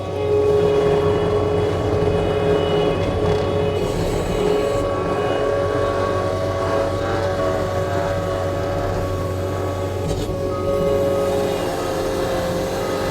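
A 2019 New Holland L220 rubber-tire skid steer loader with a cab, running on foot throttle, gives a loud, steady engine drone with a tonal whine. The pitch shifts a little as the throttle changes, and it goes on without a break throughout.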